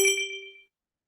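A single bright phone notification ding, close and clear, ringing out and fading within about half a second before silence.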